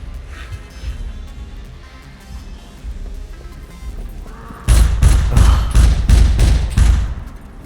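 Gunfire from an enemy mech in the survival game SCUM: after a quiet stretch, a loud burst of about six heavy, evenly spaced shots booms out close by, ringing briefly before fading.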